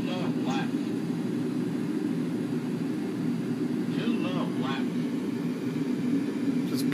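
A Boeing 737 jet takes off in the X-Plane 10 flight simulator, its engines holding a loud, steady drone throughout, with a few brief voice sounds above it.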